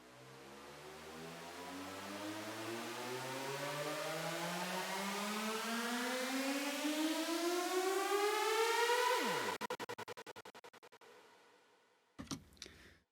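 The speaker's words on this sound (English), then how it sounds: "Next we have a pitch riser that I ended up not using, but I'll go ahead and just play that for you." A pitch riser effect for a music track sweeps steadily upward over about nine seconds in a layered, buzzing tone, swelling in loudness before dropping sharply into stuttering clicks and a short final burst.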